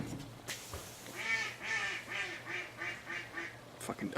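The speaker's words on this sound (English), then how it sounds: "Fucking ducks." Ducks quacking nearby outdoors, a run of about eight rhythmic nasal quacks in quick succession, fairly loud and alone.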